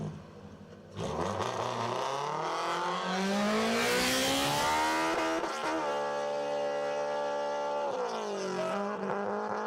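A race car running on the Bonneville salt flats. Its engine roars in from near silence and climbs steadily in pitch, then drops with a shift and pulls up again, loud and sustained.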